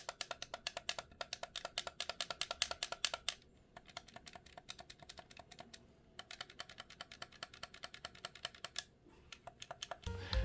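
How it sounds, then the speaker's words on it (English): The ABXY face buttons of a Retro Fighters BattlerGC GameCube controller are spammed in quick bursts of crisp, close plastic clicks. The rapid taps come in two runs separated by a short lull, with no speech over them. "the ABXY buttons all give satisfying, responsive thunks when I spam them"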